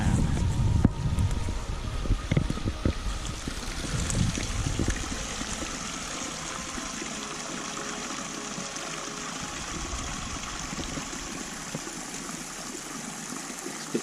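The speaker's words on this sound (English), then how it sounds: "So this is the waterfall." Water from a waterfall at an old estate lake rushes and splashes in a steady broadband wash, heard outdoors at night, with louder gusty bursts and handling noise at the start before settling into a constant, moderately distant flow.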